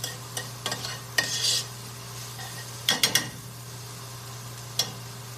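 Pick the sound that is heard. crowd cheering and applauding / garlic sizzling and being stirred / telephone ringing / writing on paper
garlic sizzling and being stirred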